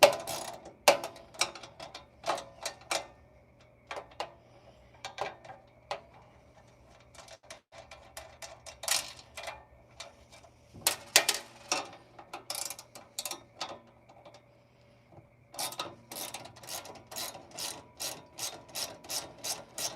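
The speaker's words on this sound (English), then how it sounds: "So, by hand we go. But at least I found out I can actually fit this ratchet on." A hand ratchet clicks steadily while bolts are turned on a Harbor Freight tool cart, with bursts of rapid ratcheting separated by short pauses and a quiet hum underneath.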